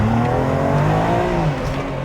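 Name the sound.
600 WHP BMW N54 DCT car launching at drag race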